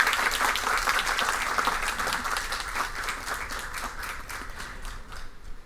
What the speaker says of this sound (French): que je vous demande d'applaudir très chaudement, s'il vous plaît.